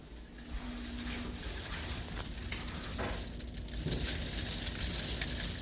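Rain driven by a picking-up storm wind patters against a window, a soft continuous hiss with faint scattered taps, heard from indoors at low level.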